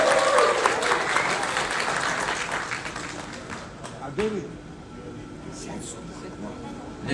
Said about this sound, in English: Guys, can you give more applause, please?